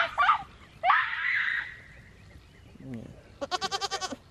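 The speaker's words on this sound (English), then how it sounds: "I'm gonna go over here and interview these goats." Close, loud goat bleats, a couple of long wavering cries followed by a rapid stuttering bleat, with a brief low sound in between.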